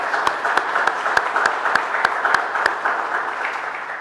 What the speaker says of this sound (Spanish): Vamos a recibir entonces con un fuerte aplauso a Aurélien Segouret.